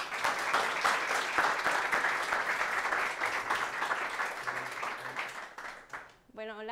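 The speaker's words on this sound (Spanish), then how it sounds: "un aplauso, muchas gracias." Audience applause welcoming a speaker at a tech talk, sustained dense clapping that tapers off, then a voice starts at the end.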